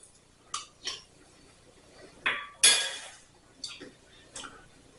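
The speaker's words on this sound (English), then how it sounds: "All right, I got my tasting spoon. I'm going to just take a little bit." A tasting spoon clinks against a pot of creamy mushroom soup, a handful of sharp metallic taps and scrapes spaced irregularly over a quiet kitchen background.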